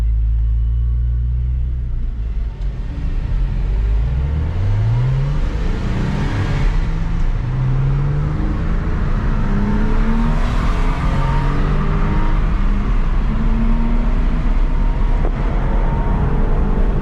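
A Porsche 911 996 engine rumbles steadily, rising and falling in pitch as it revs and accelerates, loud and close throughout.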